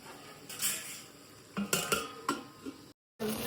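Clattering metal kitchenware as a lid goes onto a cooking pot of simmering brinjal and tomato curry, with a few sharp close clanks and knocks in quick succession, then a short silence and a final clatter.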